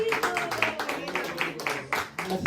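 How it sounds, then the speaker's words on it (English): An audience claps for actors taking a bow at a devotional gathering, a dense, uneven patter of many hands kept up steadily close by, with voices talking over it. "Keep clapping, keep clapping."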